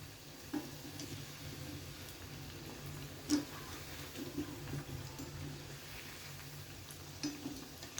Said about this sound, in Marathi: असे 1-1 मिनिट आपण फ्राय करत राहूया।